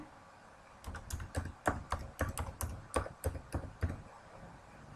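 Keys tapped on a computer keyboard in quick, uneven bursts to enter a login and password, close and fairly quiet, with short pauses between runs of clicks.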